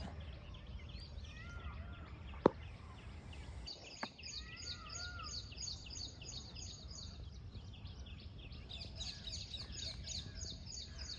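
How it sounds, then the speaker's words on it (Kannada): Peacocks call in the morning near Turahalli forest, their cries faint and distant over a constant outdoor hiss, with a couple of sharp clicks early on. "ನವಿಲು ಕೂಗ್ತಾ ಇದ್ದಾವೆ."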